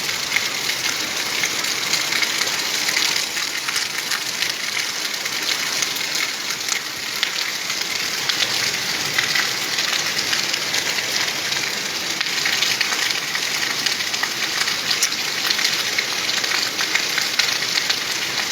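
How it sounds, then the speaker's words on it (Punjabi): First monsoon rain pours down over a village in Malwa, a dense, even hiss of falling drops that carries on steadily and loudly the whole time, with no voices over it. "ਪਹਿਲਾ ਮੀਂਹ ਪੈ ਰਿਹਾ ਮੌਨਸੂਨ ਦਾ ਮਾਲਵੇ ਦੇ ਵਿੱਚ"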